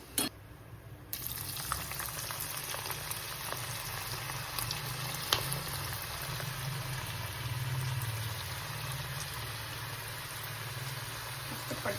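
Bitter gourd slices frying in hot oil for a crispy karela fry, giving a steady, dense sizzle with scattered small pops and crackles that runs evenly throughout, with no talking.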